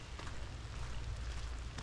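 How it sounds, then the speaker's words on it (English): Wintry mix pattering steadily onto a hiking trail along the Buckeye Trail near Wilson Mills, a dense continuous hiss of falling precipitation with a low rumble beneath, no voices. "So it starts with the wintry mix, which it has, it's probably started maybe 10 minutes ago."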